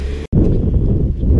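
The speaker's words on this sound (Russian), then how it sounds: "Чувствуете, ребятки, какой ветер в этом переулке?" Strong wind in a narrow street in Béziers, France, buffets the microphone with a low, rough rumble, gusting loudly and steadily after a brief cut near the start.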